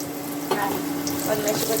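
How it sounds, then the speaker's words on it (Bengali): Steady hiss of coriander-leaf fritters sizzling in oil in a pan, continuous and fairly loud, with a soft clink partway through. "এক পাশে বড়া ভাজা হচ্ছে, এক পাশে আলু ভাজা হচ্ছে"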